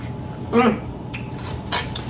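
A spoon scraping and clinking against a dish while scooping strawberry preserves onto a cream cheese Danish pastry, two or three short, close metallic taps and scrapes in a quiet kitchen.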